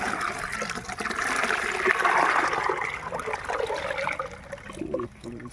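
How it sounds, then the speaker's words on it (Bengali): Water is poured and splashes continuously into a container for mixing, outdoors at a fish-spawn pond, a steady rushing pour that swells and then tapers off near the end. "এই সময় জল ঢেলে দেবো।"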